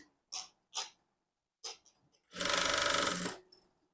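Sewing machine stitching the folded hem of a blouse in one steady burst of about a second, loud and close, with softer handling sounds before and after.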